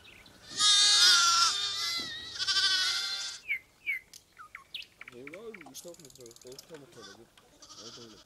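A sheep flock grazes on a mountain pasture near Zemo Alvani. Loud, close bleats overlap for the first few seconds, then scattered shorter calls and bird chirps follow.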